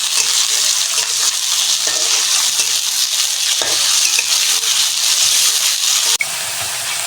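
Small cut pieces of hilsa fish head fry in hot oil with a loud, steady, close crackling sizzle, broken by occasional stirring scrapes and a brief dip near the end; no voices.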